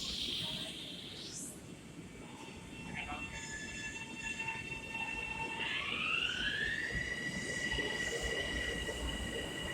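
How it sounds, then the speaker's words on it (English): A train passes through Merrick station with a steady rumbling roar, close and loud, while high tonal squeals and whines from the wheels and rails rise and glide across the clip. "Let the train go."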